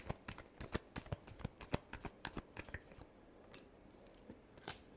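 A tarot deck being shuffled: a rapid burst of crisp card flutters and snaps for about three seconds, then a few slower, quieter taps, close and alone.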